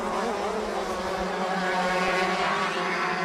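Several racing karts roar together on an outdoor track at Adams Motorsports Park during a winter league race, a dense, continuous high-pitched engine whine held close and loud throughout.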